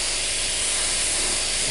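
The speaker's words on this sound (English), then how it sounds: "it's having a hard time spraying this paint" A spray gun applies primer paint to a car's undercarriage and wheel wells, a close, steady, loud hiss that continues without a break.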